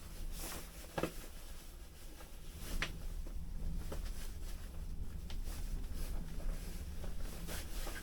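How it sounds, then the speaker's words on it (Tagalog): Strong wind in rural Alaska buffets the microphone with a continuous low roar and rumble, gusting loudly with occasional thumps and no voices. "Sobrang lakas ng hangin guys."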